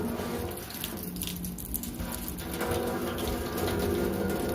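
Water pours steadily out of a container in a thrust and pressure demonstration, a continuous close splashing and gushing flow that holds at an even level throughout.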